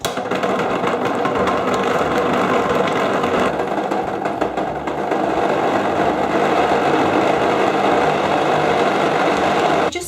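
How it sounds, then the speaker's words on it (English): A blender blending cashews whirs loudly and continuously, with a grinding buzz that dips briefly midway before resuming at full speed. "give it a good blend."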